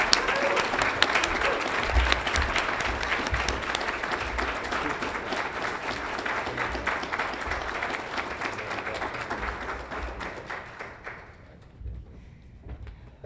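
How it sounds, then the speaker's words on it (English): An audience at a school awards ceremony applauds with dense, steady clapping that carries on for several seconds before thinning out and fading near the end. "please give me a round of applause to celebrate all 26 of our honor students this year"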